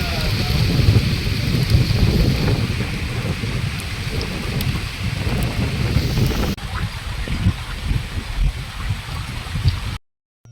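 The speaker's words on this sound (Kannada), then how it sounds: "ಇದ್ದಕ್ಕಿದ್ದಂಗೆ ಮಳೆ ಬಂದ್ಬಿಡ್ತು" Sudden rain falls outdoors over dry, drought-stricken land in Challakere taluk after six months without rain. It makes a dense, steady hiss that fills the whole stretch and softens partway through before cutting off at the end.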